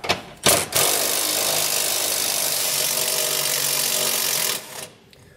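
Steady loud whir of a power tool, likely an impact wrench, running for about four seconds after a short burst while removing 15 mm nuts from the rear jounce bumper of a 2020 Ford F-250.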